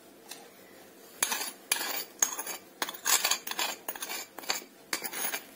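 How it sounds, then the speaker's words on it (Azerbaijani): A tablespoon scrapes and clinks against a bowl while mixing sugar, oil and egg whites for cheese pastry dough, giving repeated close metallic strokes in an uneven rhythm without voices. "xörək qaşığı şəkər tozunu yaxşıca qarışdırırıq"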